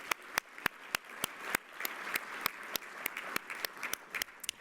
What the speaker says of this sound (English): Let's have a round of applause for their great work.